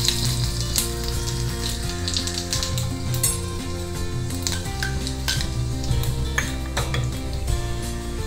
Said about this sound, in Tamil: வந்து கடுகு கொஞ்சமாக, ஏற்கனவே சோம்பு சேர்த்துருக்கோம், கொஞ்சம் சோம்பு, கொஞ்சம் உளுத்தம்பருப்பு